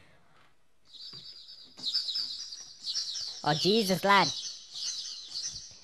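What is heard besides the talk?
flock of birds chirping, flown in through window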